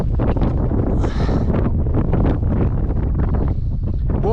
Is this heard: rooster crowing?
no